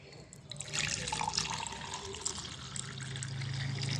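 Liquid pours from a tumbler in a home kitchen, starting faint and then settling into a steady splashing trickle close by, with no talking.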